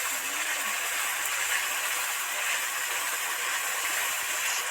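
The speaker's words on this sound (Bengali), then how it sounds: "মশলা তো কষাই হয়েই গেছে উপরে তেল বুজবুজ বুজবুজ করছে" Oil bubbling on top of a cooked-down mutton curry masala in a pot, a dense continuous hiss and fine crackle at a steady close level throughout.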